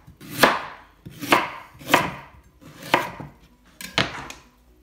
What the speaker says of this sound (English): I'm going to cut through the turnip and then just slice it